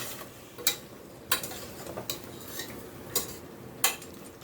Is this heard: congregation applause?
no